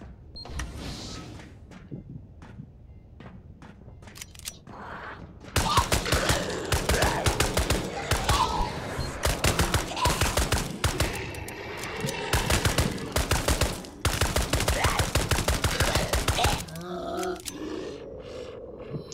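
Sustained video game gunfire: after a few seconds of quieter ambience, a long, loud stretch of rapid, dense shots runs for about eleven seconds, then cuts off, leaving softer game sounds and no talking.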